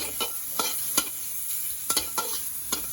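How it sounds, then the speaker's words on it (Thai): Pork belly fat sizzles and crackles in a hot wok, with a steady hiss broken by sharp scraping stirs at irregular intervals. "พอกระทะร้อนแล้วเราก็ทำการใส่มันหมูของตัวหมูสองชั้นเลย"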